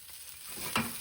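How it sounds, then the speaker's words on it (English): Pearl onions sautéing in a pan make a soft, steady sizzle that swells briefly as they are stirred, close and fairly quiet, with no voices. "Just going to give this a quick little saute in the pan."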